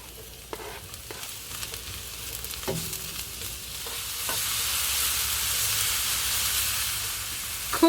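Mushrooms frying in a pan, with a few scattered stirring clicks early on, then a steady, loud sizzle that swells and holds to the end.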